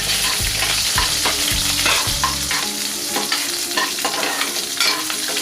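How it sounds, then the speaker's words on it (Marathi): Garlic and slit green chillies sizzle loudly in hot oil in a pan for a yellow dal, with a constant frying hiss and scraping stirring strokes up close. "हे लसणीला आपल्याला व्यवस्थित परतून घ्यायचं आहे।"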